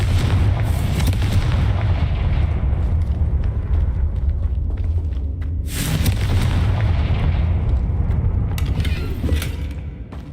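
A Confringo fire spell blasts in the Hogwarts Legacy video game, a loud booming burst with crackling, rumbling tails, repeated a couple of times over a dense, continuous game soundscape, with no talking.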